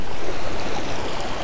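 Steady, loud rush of a mountain stream in the Sai Bala Valley near Jaglot, Gilgit-Baltistan, a dense continuous roar of churning water with no voices.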